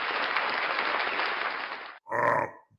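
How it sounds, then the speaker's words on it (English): A round of applause from a group, loud and steady for about two seconds, then cut off abruptly and followed by a short burst of vocal noise. "Round of applause for Team Skeptic, everybody"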